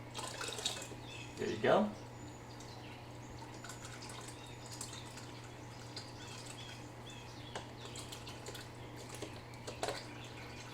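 Water poured from a cup onto a rock in an aquarium tank: a short, fairly loud splash about two seconds in, then a steady low hum of tank equipment and a voice speaking briefly.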